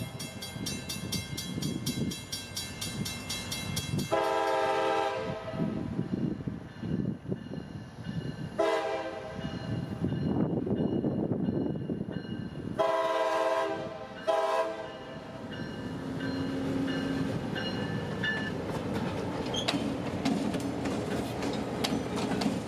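A CSX local freight train switches cars at the Americold plant in Plant City, with loud blasts of the train horn, rumbling locomotive and clanking railcars rolling past close by.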